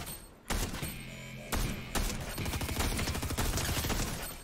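Dense, rapid gunfire in Fortnite aimed at heads, a continuous rattling fusillade with sharp onsets and heavy low thumps, loud and close with no voices.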